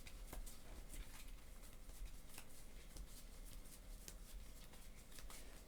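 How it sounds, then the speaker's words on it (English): Cards for the Terraforming Mars: Ares Expedition board game are shuffled by hand, giving quiet, soft riffling and sliding with light snaps, close by and without talk. "We're going to shuffle this up."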